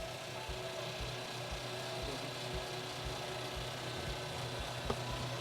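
Jet mill drill cutting metal on a slow power feed, a quiet steady rasping grind with a faint regular pulse from the machine running on its own.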